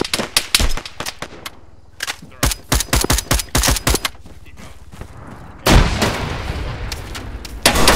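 Gunfire crackles in sharp bursts through a firefight in Arma 3, then a frag grenade goes off with a loud, sustained blast that rolls on for a couple of seconds.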